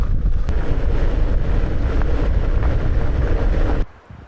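Strong wind on a Scottish hillside along the Southern Upland Way roars and buffets the microphone in a steady, heavy rush, cutting off abruptly near the end.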